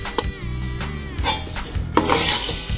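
Roasted Bambino vermicelli sizzles in ghee in a pan, stirred with a spoon that scrapes and clinks against the metal several times over a soft, steady frying hiss, close and fairly loud, with no talking.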